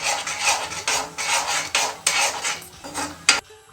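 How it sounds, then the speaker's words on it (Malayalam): Peanuts stirred in sugar syrup in a pan make repeated rasping, scraping strokes, about seven close, rhythmic scrapes of a spoon against the pan, then a clink and quiet. "അപ്പോൾ കുറച്ച് നേരം നമുക്കൊന്ന് ഇളക്കി കൊടുക്കാം."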